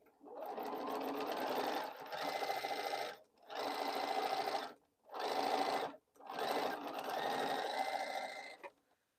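Electric sewing machine stitching quilt blocks for a boho heart pattern, running in four steady bursts with short pauses between them, loud and close with no talking.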